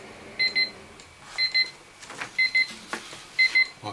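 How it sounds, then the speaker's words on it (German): A digital radio-controlled wall clock alarm beeps in repeated short double-tone bursts, roughly once per second, loud and close, with faint background noise. "Jetzt piepst die."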